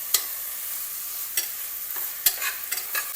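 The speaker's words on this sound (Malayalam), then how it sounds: "ഇഞ്ചി വെളുത്തുള്ളി പച്ചമുളക് ചതച്ചതെല്ലാം ഇട്ടിട്ട് നന്നായിട്ട് മിക്സ് ചെയ്യണം" Crushed ginger, garlic and green chilli stirred into a frying pot for cooker biriyani: a few separate spoon scrapes and clacks over a soft, steady sizzle, close and fairly quiet, with no talk.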